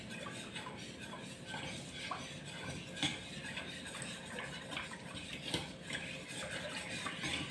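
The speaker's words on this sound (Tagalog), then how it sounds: "So, mix, mix, mix." A corn, avocado and jelly dessert mixture being stirred, heard as a continuous, moderately faint wet churning with occasional light clinks of the utensil against the container, with no voices.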